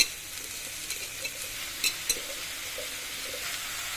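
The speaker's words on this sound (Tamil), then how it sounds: "இப்போ நான் வாழைக்காயை ஆட் பண்ணிக்கிறேன்." Raw banana pieces sizzle quietly in a pan of sautéed onions while a spoon stirs them, giving a steady low hiss broken by a few light scraping clicks.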